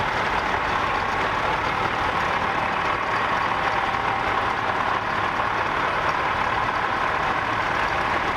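A 1965 Nuffield 10/60 tractor running at an Isle of Wight steam fair, its engine giving a steady, even rumble at moderate distance against open-air background noise.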